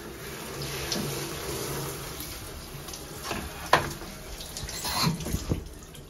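Shower water hisses steadily while a bicycle is washed in a home shower, with a few knocks and clatters of the bike against the stall and a brief splashy swell near the end.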